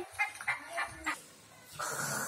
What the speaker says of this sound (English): I say cluck cluck. I like eggs. Who I am? Hen.